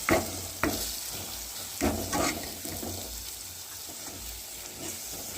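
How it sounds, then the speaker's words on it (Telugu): A spoon scrapes and stirs through spicy mutton paya masala curry in a pan, with soft sizzling and wet mixing sounds, steady and close, a few sharper scrapes standing out. "బాగా కలబెట్టుకున్నాం ఈ విధంగా బాగా కలపెట్టేసుకొని"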